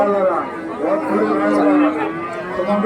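Cattle at a rural livestock market low faintly beneath steady crowd chatter, one longer moo standing out in the middle amid nearby talking voices.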